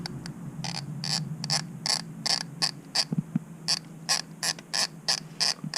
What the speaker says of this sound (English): Got my 10mm socket right here, my wrench, and then I'm gonna start going away with these.